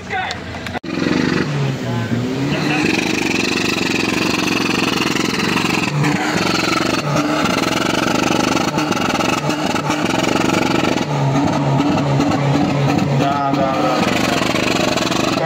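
Engine of a chipped, performance-tuned car idling and revving in repeated surges, loud and close for about fifteen seconds, with a voice talking intermittently over the steady drone.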